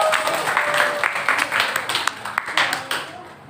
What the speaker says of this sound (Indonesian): Kita beri aplaus dulu untuk kelompok empati.